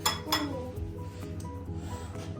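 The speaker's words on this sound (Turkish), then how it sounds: "Ayaz şimdi kaşıkla bunun üstüne dök bakalım ha." A spoon clinks against a bowl of melted chocolate while it is poured over a popit mold, a few faint quick clinks near the start over a low background hum.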